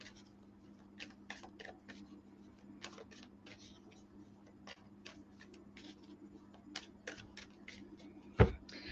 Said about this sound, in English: So I'm going to give those a good shuffle.